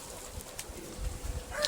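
Birds call faintly at a poultry farm in Nigeria, with a few soft cooing notes in a short, quiet stretch of ambient noise.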